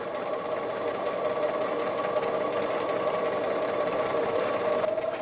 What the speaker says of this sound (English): I'm just going to sew down this edge